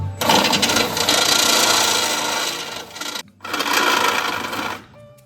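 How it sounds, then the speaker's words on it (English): A power drill with a step bit bores out a hole in a steel clamp during a Genesis Coupe drift car build, grinding loudly and close for about three seconds, pausing briefly, then biting again before stopping. "now we're gonna drill this out for the fourth hole. Came with a step bit."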